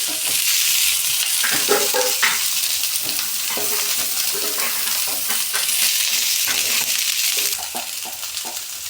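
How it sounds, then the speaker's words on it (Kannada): Capsicum, onion and sweet corn stir-frying in a pan for white sauce pasta, a steady loud sizzle broken by repeated scraping stirs, with no voices. "ಕ್ಯಾಪ್ಸಿಕಮ್ ಫ್ರೈ ಆದಮೇಲೆ ಆನಿಯನ್ನು, ಸ್ವೀಟ್ ಕಾರ್ನು, ಇದೆಲ್ಲ ಚೆನ್ನಾಗಿ ಫ್ರೈ ಆಗಬೇಕು."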